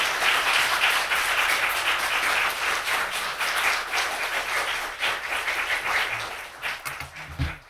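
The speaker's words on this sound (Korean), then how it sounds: "우리 큰 박수로 김기현 목사님 모시겠습니다" A church congregation at a Sunday evening service claps to welcome a pastor, a full, steady round of applause lasting several seconds before tapering off, with a few low sounds near the end.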